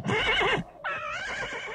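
A horse gives two loud, close neighs as a sound effect in a told story about a flying ebony horse, a long quavering whinny followed by a short pause and a second rising whinny.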